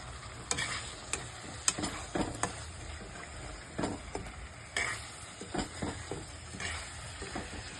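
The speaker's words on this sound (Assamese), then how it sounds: "প্ৰথমে আলুখিনি অলপ ৰোষ্ট কৰি ললো তেলতে তাৰপিছত এতিয়া মাংস দি দিলো" Potatoes and meat fry in oil in a pan, giving a low sizzle under repeated scraping and stirring clatter at an uneven rhythm.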